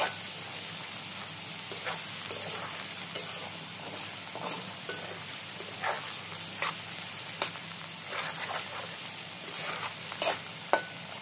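Chopped potatoes with salt and turmeric sizzle steadily in a pan for a prawn and potato curry, with repeated sharp scraping strokes of a spatula stirring them, no voices.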